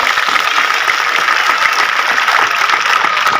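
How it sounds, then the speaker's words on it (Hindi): A crowd at a political rally in Kaimore claps continuously, a dense, loud wash of applause that stays even throughout without voices breaking through. "लगाओ ताली बहनों के लिए।"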